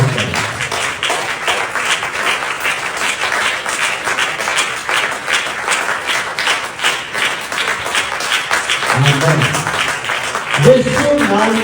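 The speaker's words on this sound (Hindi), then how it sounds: "हम जोरदार तालियों से स्वागत करें" Enthusiastic applause fills a church hall during a Hindi sermon: a dense, sustained wash of clapping from the congregation that keeps going for over ten seconds, with a voice briefly heard near the end.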